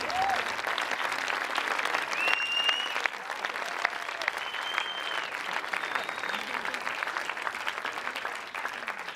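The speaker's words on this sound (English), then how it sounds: "Meine Damen und Herren, big round of applause." Steady, dense applause from a large audience fills the whole stretch at a Berlin premiere of Morning Glory, with faint whistles and crowd murmur mixed in, no single voice standing out.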